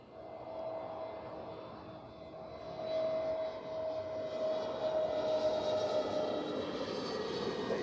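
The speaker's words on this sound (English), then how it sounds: "Third British Airways A321neo of today." A British Airways Airbus A321neo jet passes at Zurich Airport. Its engines give a distant, steady whine with a clear sustained tone that swells gradually, building into a broader roar over several seconds.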